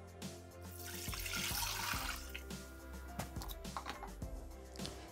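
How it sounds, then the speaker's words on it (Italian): Water is poured into an unwashed Thermomix bowl while making arancini, a soft trickling stream with small clinks and knocks, quiet and close. "Senza lavare il boccale, mettere l'acqua."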